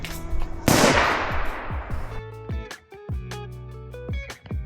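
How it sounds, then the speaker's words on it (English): Fireworks bursting in city streets at night, a loud hissing blast followed by a rapid series of sharp cracks and pops, nearby and echoing, continuing irregularly throughout. "I captured some fireworks going off in the streets."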